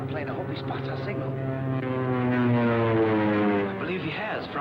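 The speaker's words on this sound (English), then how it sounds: "There's a scout plane." A droning propeller scout plane hums steadily overhead, circling, its engine tone swelling slightly louder midway, then easing.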